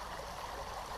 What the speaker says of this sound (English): At this point, we're now going to add some water